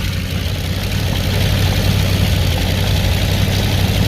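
A Ford 351W V8 paired with a C4 automatic transmission runs on a test stand, idling with a loud, steady low rumble that swells slightly as it ramps up in forward gear.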